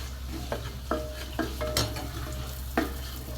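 Spoon stirring turmeric into palak frying with onion in a pan, a few distinct scraping strokes over a steady low sizzle, close and fairly quiet, no talking.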